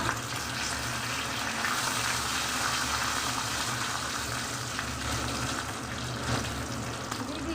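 Mustard oil tempering with five-spice seeds, a bay leaf and a dry red chili crackles in a steady bright sizzle, close and constant, with small pops scattered through it.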